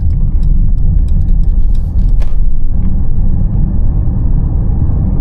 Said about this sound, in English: although you can hear a lot of tire noise, which makes sense because this thing rides on very, very big rims